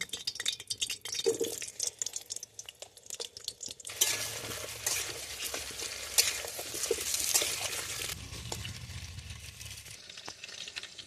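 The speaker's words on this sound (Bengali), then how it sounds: "তেলটা গরম হয়ে গেছে, এর মধ্যে আলুগুলো এবার দিয়ে দেবো" Potatoes dropped into hot oil in a village-style kitchen, frying with a steady crackling sizzle that swells loudly midway, mixed with clinks of a utensil against the pan and occasional stirring scrapes.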